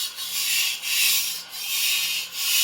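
An antique Dufrense and Co. chef knife is drawn across a whetstone in rhythmic grinding strokes, about four close swishes in quick succession, with no talking.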